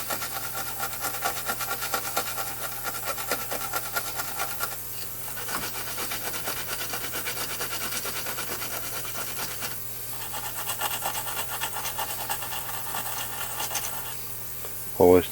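Corrosion is scrubbed off a rivet on the chassis of a Watch Masters ultrasonic cleaner. Close, rapid back-and-forth rasping comes in bursts with short pauses, and a sharp knock sounds at the end.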